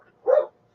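One short, muffled dog bark indoors, single and fairly close, with silence before and after.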